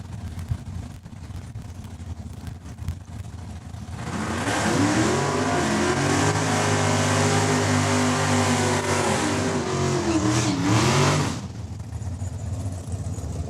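Mopar drag race car launching and accelerating hard down the quarter-mile strip at Saskatchewan International Raceway, a loud, close engine roar rising in pitch through gear changes for about seven seconds before cutting off, with crowd ambience before and after.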